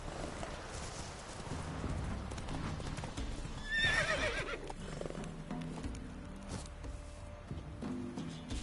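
A horse in a video game gallops with quick, rhythmic hoofbeats and lets out a loud whinny midway, with faint background game sounds.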